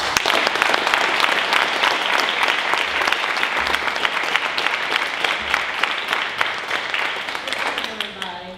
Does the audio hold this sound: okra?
no